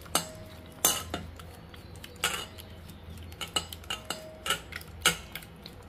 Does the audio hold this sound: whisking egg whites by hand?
yes